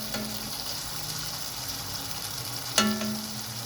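Masala paste frying in oil as it is stirred, with a continuous close sizzle and one sharp clack of a spoon against the pan near the end.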